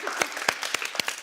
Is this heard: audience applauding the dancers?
yes